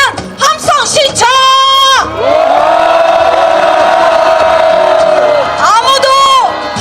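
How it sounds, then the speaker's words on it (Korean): At a civic march for repealing the National Security Act, a large crowd shouts together in one long, loud sustained roar. Shorter bursts of voices come before it and rise again at the end. "다 같이 민주주의를 위한 함성 신청"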